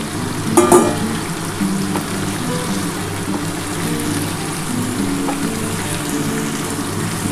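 Mutton goes into a pan of lightly browned frying onions, setting off a loud, dense sizzle with a brief clatter near the start, then a steady hiss that continues without talk.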